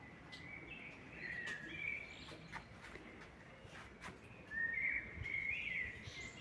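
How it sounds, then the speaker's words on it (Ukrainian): Small birds chirp and trill faintly in two short bursts against a quiet garden background with soft rustling and faint steps. "А пташки, чуєте, як співають пташки?"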